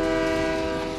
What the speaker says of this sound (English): they transport prisoners by train.